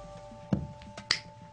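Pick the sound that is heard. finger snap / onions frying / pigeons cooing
finger snap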